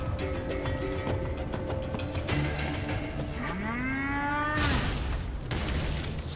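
Cow in the video game Metal Gear Rising: Revengeance lets out a loud, drawn-out moo with a sliding pitch, set over game music and mechanical booms, no talking.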